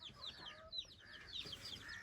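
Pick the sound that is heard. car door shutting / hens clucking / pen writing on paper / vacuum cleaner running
hens clucking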